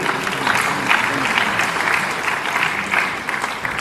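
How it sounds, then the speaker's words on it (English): An audience at a formal ceremony in a palace setting applauds after a keynote, a sustained, even wash of many hands clapping at moderate loudness. "Please, a round of applause for him."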